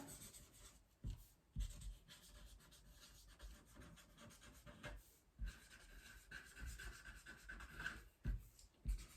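A pen writes a sentence on paper, making faint, close scratching and rubbing strokes in irregular bursts separated by short pauses.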